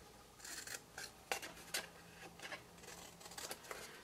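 Scissors snip away small squares of paper card from an envelope punch board box, a series of short, crisp cuts and rustles at close range with no talking.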